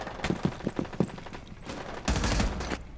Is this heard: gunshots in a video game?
yes